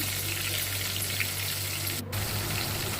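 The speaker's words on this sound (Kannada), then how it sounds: "ಟೊಮೊಟೊ ಚೆನ್ನಾಗಿ ಸಾಫ್ಟ್ ಆಗಬೇಕು ಅಲ್ಲಿವರೆಗೂ ಫ್ರೈ ಮಾಡೋಣ" Tomato pieces fry steadily in a pan for an egg and cabbage fry, giving a continuous, even sizzle heard up close throughout, with no talking.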